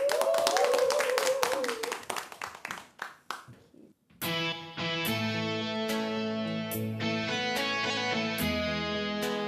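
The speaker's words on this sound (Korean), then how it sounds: "박수로 맞이해 주세요." An audience in a television singing class claps to welcome a singer, a rhythmic run of hand claps over a voice that thins out after about four seconds, when trot-style band music starts.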